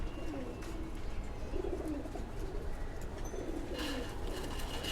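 Pigeons coo repeatedly in low, rolling calls while being fed, several overlapping phrases recurring every second or so at close range over steady background noise.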